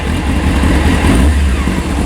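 Honda Hornet 600 motorcycle engine, warmed up and running steadily at a low, rumbling idle with a slight lift in throttle, loud and close throughout with no voices.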